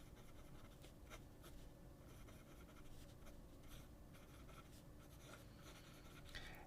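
A Lamy steel medium fountain pen nib writes on paper, a soft continuous scratchy glide broken by faint strokes and lifts, very quiet and close with no one talking.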